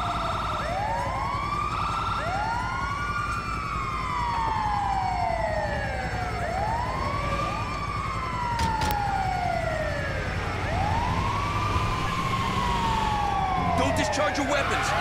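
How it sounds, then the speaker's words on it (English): An ambulance siren in the video game GTA V wails in repeated rising and falling sweeps, loud and continuous, while a faint steady rumble sits beneath it. "Oh, it's the ambulance!"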